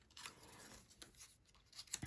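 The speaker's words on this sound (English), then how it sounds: "just roughly cut with the scissors which ones you want to cut out with your dies" Scissors roughly cutting around stamped pattern paper for a hand-stamped greeting card: a few quiet, close snips and crisp paper crunches in quick succession.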